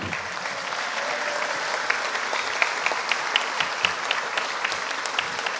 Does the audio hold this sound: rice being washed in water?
no